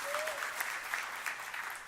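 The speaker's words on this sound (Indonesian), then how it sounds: "Tepuk tangan yang meriah untuk beliau." Church congregation applauding during a sermon, a steady dense clatter of many hands filling the room, moderately loud, with a brief tone near the start.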